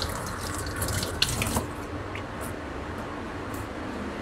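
Tap water runs into a sink while a meat grinder is washed, a steady close splashing stream with a few faint clinks and drips, no voices.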